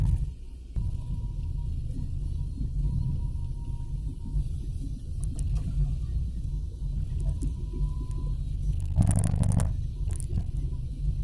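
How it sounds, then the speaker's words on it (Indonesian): Road traffic rolls past on an ordinary road: tanker trucks carrying palm oil, box trucks, private cars and buses, heard as a continuous low rumble with a brief louder passing swell near the end. "Itu truk tangki, mobil box, pribadi, bus"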